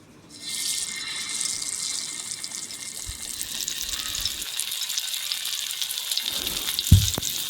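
Oil heats on a dosa pan for fish fry, breaking into a steady bright sizzle that holds throughout, with a couple of soft knocks near the end.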